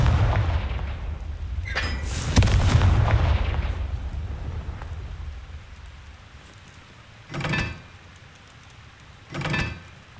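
The Confringo fire spell is cast in Hogwarts Legacy, giving a booming, crackling blast followed by a rumbling decay, then two shorter whooshing bursts later on, with no talking.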